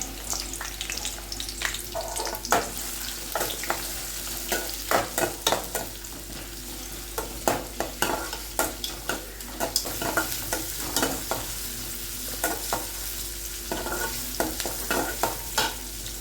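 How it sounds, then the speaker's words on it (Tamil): Onions sautéing in a pan with oil, a steady sizzle broken by frequent scraping clicks from a spoon stirring them, close and clear, with no voices. "இப்போ நம்ம வெங்காயம் போட்டுக்கிறோம் வெங்காயம் நல்லா வதங்கட்டும்"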